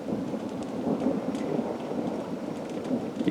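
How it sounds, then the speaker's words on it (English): Rain begins falling at a high mountain campsite around 9000 feet, a soft steady patter with low rumbling and faint rustles throughout, no voices. "You can't see the rain, but it's starting to come down now."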